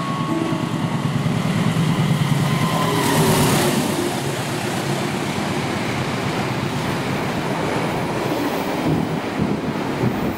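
Fajar Utama YK passenger train rolling past at speed, a steady loud roar of wheels and rushing air holding for the whole stretch with a brief surge midway, no voices.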